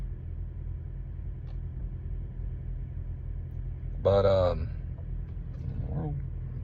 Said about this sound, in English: Probably the yard truck hooking up to a trailer close to me.